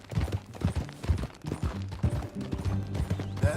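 Horse hooves clip-clopping in Red Dead Redemption 2, a steady repeated thudding gait heard fairly close, running under sustained tonal background sounds throughout.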